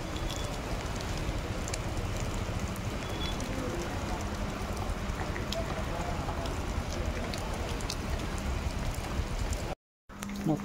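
Steady rain pours down at a chilli market in Guntur, a dense continuous hiss and patter with no breaks, ending in a brief dropout.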